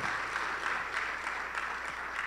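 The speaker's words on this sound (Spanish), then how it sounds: "Denle esa ofrenda de palmas al Señor." Congregation clapping together during a Spanish-language church service, a steady, dense wash of applause that holds at an even level throughout, with no voices standing out above it.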